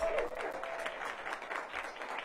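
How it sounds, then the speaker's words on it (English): Audience applause at a mayoral pop-up permit launch event, a steady wash of clapping from a seated crowd lasting a couple of seconds at moderate level, with no talk over it. "Let's give C. Smith another round of applause."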